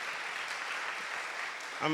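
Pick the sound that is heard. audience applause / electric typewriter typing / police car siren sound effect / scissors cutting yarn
audience applause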